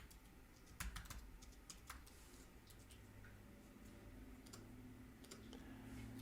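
Keystrokes on a computer keyboard while entering a client's name and property address into a home inspection report form, a quiet, steady patter of clicks with a few sharper taps, no voices.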